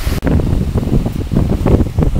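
Strong outdoor wind gusts buffet the microphone on a countryside walk near a burn, a loud, uneven rumble that swells and eases without speech.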